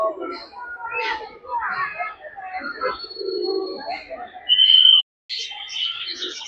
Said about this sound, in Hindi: कितनी ही सुंदर सुंदर ये चिड़िया है या तोता है क्या है